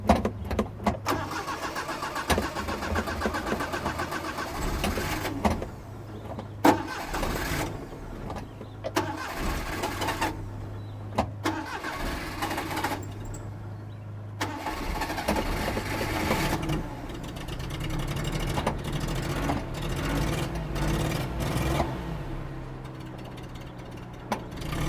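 An old vehicle's engine cranks, catches and settles into a steady running idle, near and loud, with uneven dips as it stumbles before running on its own, no talk over it.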